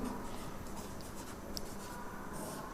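Handwriting during a class 10 maths lesson, a continuous close scratching and rubbing of pen on a writing surface, steady and fairly quiet with no one talking.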